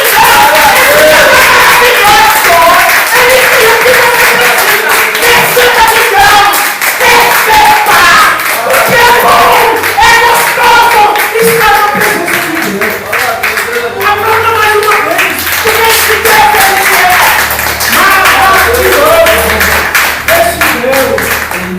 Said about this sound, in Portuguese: Aplauda o Senhor, gente!